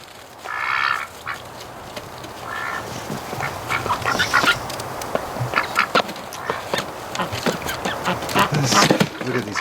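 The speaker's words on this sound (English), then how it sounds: "Look at these crazy ducks." Ducks, including drakes, quack and call in the snow during cold, windy winter weather, a flurry of nasal quacks and scattered squawks close by over gusty background noise.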